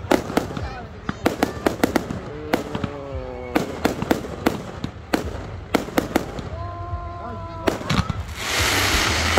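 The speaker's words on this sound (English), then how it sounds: "I like the look at those fireworks" Fireworks bursting over Loch Sport, a rapid series of loud sharp cracks and booms with whistling rising shells, crackle and people talking between blasts.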